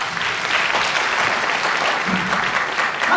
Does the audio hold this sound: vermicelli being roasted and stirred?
no